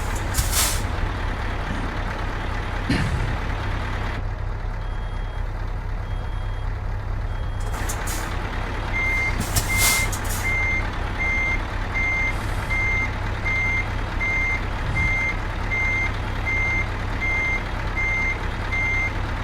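A truck in a simulator game backs a trailer, with a steady low engine drone, a hiss of air brakes, and a run of evenly spaced reversing beeps in the latter half.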